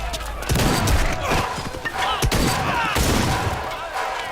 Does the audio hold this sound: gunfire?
yes